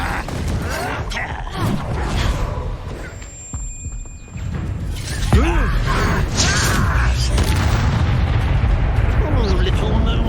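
Confringo fire spell explosions burst in Hogwarts Legacy combat, a sharp booming blast near the middle followed by sustained roaring rumble and clatter amid busy game noise.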